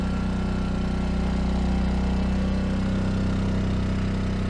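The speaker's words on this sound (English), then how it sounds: "That's a pretty cool little generator." A small Ryobi 900 watt portable generator running on propane hums steadily with a constant low engine drone, close and even throughout with no voices.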